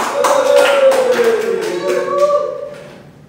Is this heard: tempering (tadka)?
no